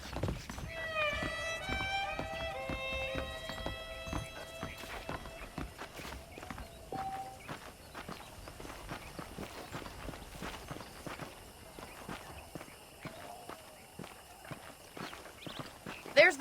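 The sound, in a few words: horse hooves while riding, from video game Red Dead Redemption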